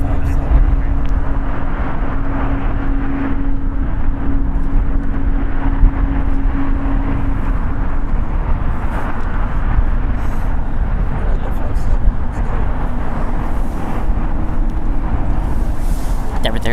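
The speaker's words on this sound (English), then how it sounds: "It's a Boeing 757, 27 years old." A 27-year-old Delta Boeing 757 airliner at LAX airport, a steady broadband engine roar with a low droning tone holding through the whole stretch, loud and continuous, with faint talk mixed in.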